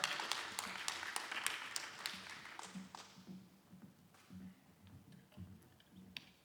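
A church congregation gives welcoming applause as the pastor comes forward to preach, a fairly quiet patter of hands that is strongest early, then thins to scattered claps and faint murmurs.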